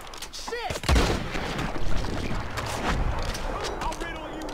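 Gunfire in the Western video game Red Dead Redemption 2: a burst of loud, close shots with rolling echoes, followed by scattered further shots and battle noise, with a voice talking over parts of it.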